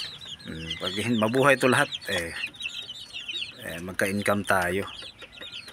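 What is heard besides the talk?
native chickens clucking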